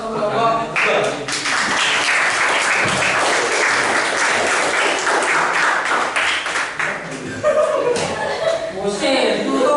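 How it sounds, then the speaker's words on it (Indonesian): Classroom applause for a student group after its electrical circuits presentation, a loud sustained clapping from many hands nearby, with chatter and chuckling mixed in and voices rising toward the end. "beri aplaus untuk kelompok 2"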